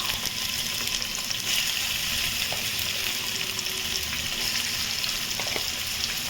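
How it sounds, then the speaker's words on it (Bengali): Chopped ginger and garlic fry in white oil in a pan for chicken fried rice, giving a constant, moderately loud sizzle with a watery, bubbling edge and no talking. "আর এখানে চপ করে রাখা আদা রসুন দিয়েছি।"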